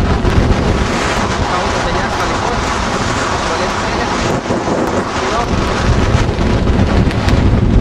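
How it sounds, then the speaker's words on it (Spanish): Strong wind in Tampico, Mexico buffets the microphone in a loud, constant roar, with a faint wash of water underneath throughout. "Ahora sí que está fuerte el aire."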